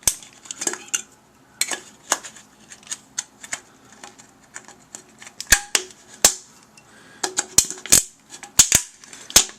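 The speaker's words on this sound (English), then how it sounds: "I'm going to cut through this can" Sharp metallic snips and crunches ring out irregularly, close up, as nippers cut and bend a thin aluminum soda can piece by piece.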